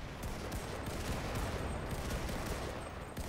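Sustained fully automatic fire from a Johnson LMG machine gun in a first-person shooter, a rapid, steady stream of close shots with no pauses, dense and even, with no voices.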